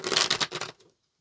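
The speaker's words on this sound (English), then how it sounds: "let's go ahead and get one more shuffle" A brief burst of rapid papery riffling as tarot cards are shuffled, close by and fading out within a second.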